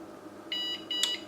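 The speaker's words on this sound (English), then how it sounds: "it will beep like this 50 times before shutting off" Two short, high electronic beeps from a digital kitchen scale's timer sound in quick succession, clear and close over a faint background hum.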